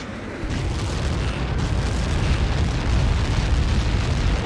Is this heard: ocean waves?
no